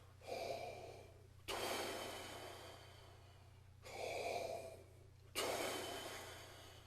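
Close, airy breathing drill for trumpet, two cycles of a soft inhale followed by a stronger exhale started with a T articulation, each breath rising then tapering, with a low steady hum underneath.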